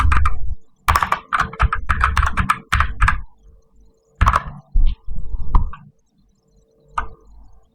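Fast bursts of computer keyboard typing, with several quick clattering runs and then sparser keystrokes, as an IP address is entered during a computer networking practical. The keys sound close and clear, and no speech is heard.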